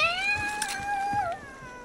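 A house cat lets out a long, drawn-out meow close by, its tone wavering and bending down before it ends, with faint background noise beneath.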